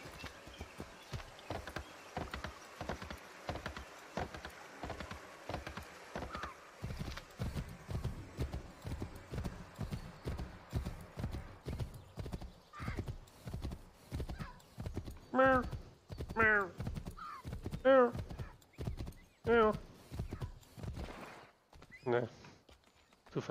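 Horse hooves clip-clopping steadily at a brisk pace in the Assassin's Creed III video game, with several loud whinnies and neighs breaking in toward the end over a continuous game soundscape.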